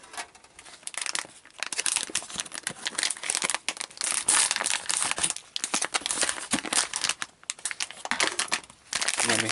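Thin foil tray from a wilderness survival kit crinkled and crushed in the hands, a close, continuous crackling rustle with sharp bursts and brief pauses, no talking.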